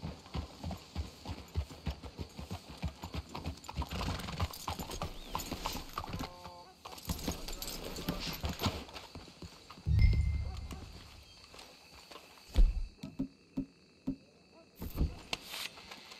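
Horses in the Red Dead Redemption 2 video game clop along in a steady walking rhythm, then give a couple of short whinnies and snorts as the hoofbeats slow.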